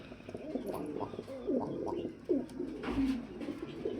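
A pair of Damascene (iceberg Damascene) pigeons, a male and a female, coo in a series of soft, rolling, repeated calls close by over a low background hum, with no voices.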